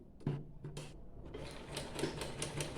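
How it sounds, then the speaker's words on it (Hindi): A sewing machine stitching a dress collar, rapid mechanical clattering bursts that start and stop, quiet and close, with short pauses between runs of stitches. "अब हम इसे हाफ वाले हिस्से से इधर सिलाई लगा लेंगे"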